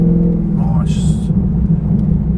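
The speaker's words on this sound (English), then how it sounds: "It's a much nicer burble compared to when we took it around the lap at Summer Nights." A cammed 2013 VF SSV Commodore V8 idles with a deep, loud, steady exhaust burble close by, a brief higher whine rising midway, while a voice is heard faintly underneath.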